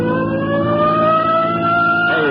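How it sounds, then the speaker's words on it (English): A police car siren in an old radio detective drama wails in long rising and falling tones, loud and close, with an engine revving underneath as the car races along a highway. "Come on, hit your siren."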